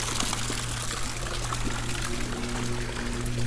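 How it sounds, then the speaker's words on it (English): Water trickling and pouring from a partly clogged pool water feature at a Las Vegas home, a steady close splashing stream with a low constant hum underneath and no talk. "Looks like there's a clog on the water feature there."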